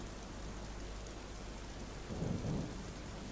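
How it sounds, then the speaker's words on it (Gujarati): Steady night rain hisses throughout as a low, rolling rumble of thunder swells near the end and fades. "ગાજવીજ સાથે વરસાદની શરૂઆત થઈ"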